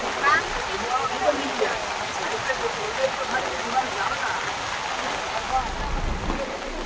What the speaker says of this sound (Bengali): প্রচন্ড বৃষ্টি শুরু হয়েছে।